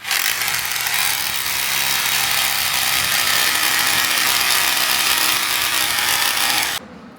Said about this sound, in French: Moi j'ai pris une mèche plus petite pour faire des avant-trous.